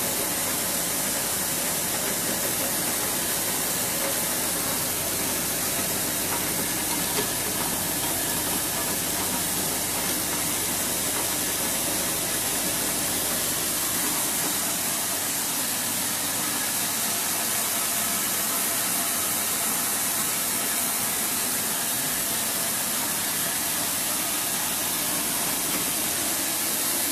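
A cocoa butter press running a pressing cycle in a chocolate bean-to-bar workshop, producing a steady, loud, continuous hiss and mechanical hum that drones on unbroken without talk.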